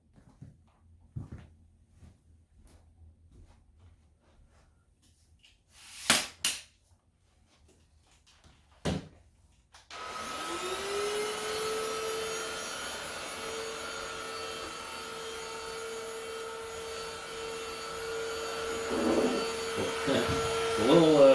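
After some quiet handling noises and a couple of sharp knocks, a Greenote GSC40 carpet cleaner starts up on low speed and runs with a steady whirring hum that grows slightly louder toward the end.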